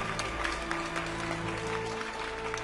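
Steady applause, a crowd clapping continuously at an even level for a couple of seconds.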